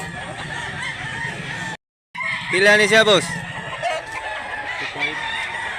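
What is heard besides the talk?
rooster crowing and clucking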